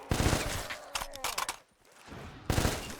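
Gunfire in a zombies video game, with a sniper rifle in use, comes as two dense bursts of loud shots at the start and end, separated by sharp cracks and a brief quieter lull.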